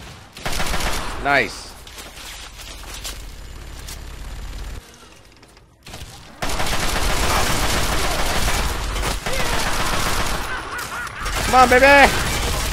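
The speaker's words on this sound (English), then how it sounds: "Keep firing." Gunfire from the video game Fallout 3 during an Enclave attack, dense bursts of shots and explosions over loud game noise, with a pause midway before the shooting resumes heavily; someone speaks briefly over it.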